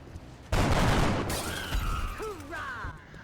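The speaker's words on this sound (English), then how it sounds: "With both Binoshi and Einstein having good chances to hit, I give Binoshi a shot." Soldier firing at a sectoid in XCOM: Enemy Within (Long War mod), a loud burst of gunfire erupting suddenly and sustaining for under a second, followed by sci-fi whooshes and tonal game effects.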